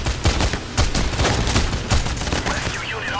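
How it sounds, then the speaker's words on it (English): Gunfire in the heist video game Payday, a dense, continuous rattle of rapid shots and impacts filling the whole short stretch at close range, with a voice faintly underneath. "I'm getting shot."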